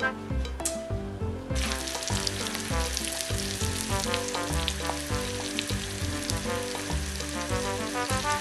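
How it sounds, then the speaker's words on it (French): Bananas frying in butter that is browning into beurre noisette for a banana Camembert tatin, a steady close sizzle running throughout with overlapping background music. "Avec un petit peu de beurre. On va faire une beurre noisette."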